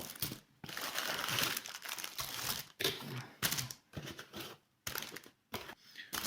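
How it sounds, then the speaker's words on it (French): Packaging for small LED spotlights being opened by hand, with dense crinkling and crackling of plastic and paper in irregular bursts separated by brief pauses, close and fairly quiet. "j'ai acheté des petits projecteurs comme ça, LED. On va ouvrir ça ensemble."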